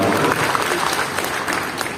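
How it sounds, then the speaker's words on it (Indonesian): Congregation clapping during a church sermon, a short stretch of moderately loud applause with some voices mixed in. "Boleh tepuk tangannya pada dia."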